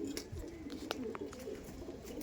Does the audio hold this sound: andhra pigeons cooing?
yes